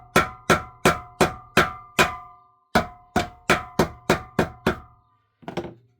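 A hammer taps a car body panel in a steady series of sharp, ringing strikes while knocking out a dent, a short pause, then more taps and one final softer blow.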